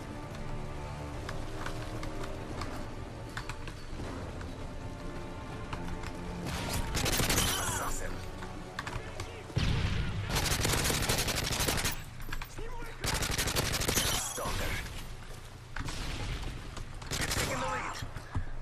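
SCAR-L assault rifle fire in Modern Warfare 3 online play: repeated loud automatic bursts and single shots ring out over steady game ambience and music, growing denser in the second half.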